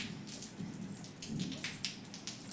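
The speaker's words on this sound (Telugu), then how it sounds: "చూడండి ఫ్రెండ్స్, ఫుల్ వర్షం అయితే వచ్చింది మాకెళ్ళి" Heavy rain falls on a farm plot, a loud continuous wash of drops with rising and falling gusts and scattered sharper patters on nearby surfaces.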